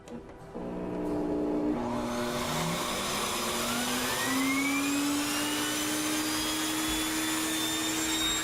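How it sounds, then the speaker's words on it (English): A Sirena water-filter vacuum cleaner starts up with its Turbo Brush spinning, swelling into a loud, steady whine with rising tonal sweeps as the motor reaches speed, with no talk. "Nothing happens until, of course, we turn on the machine, and when we do, you'll see it spin."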